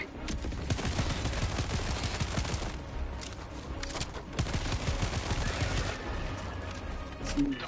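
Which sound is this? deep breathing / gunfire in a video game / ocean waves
gunfire in a video game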